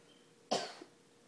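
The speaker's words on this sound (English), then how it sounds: "Cover your cough." A young child gives a single short, sharp cough close by, with quiet room tone before and after.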